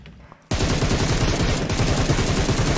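Sustained automatic gunfire in the battle royale game PUBG, from an M7 rifle, bursts in abruptly after a quiet moment and runs as a dense, loud, rapid rattle to the end.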